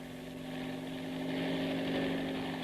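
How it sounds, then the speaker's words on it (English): A helicopter sound effect in an old radio drama, a steady low droning rotor and engine hum that swells slightly, heard alone at moderate volume. "I ran across the heliport to Shockin's private helicopter."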